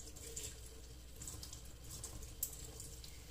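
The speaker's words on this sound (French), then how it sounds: "Je vais rincer." A bathroom tap runs steadily, rinsing makeup brushes such as a foundation brush, a soft continuous hiss of flowing water with a faint splash near the end.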